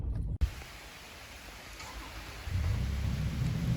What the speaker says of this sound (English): Rain's coming down pretty hard.